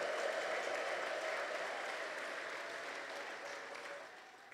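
A church congregation applauds, a dense steady wash of clapping heard at a distance that fades slightly toward the end.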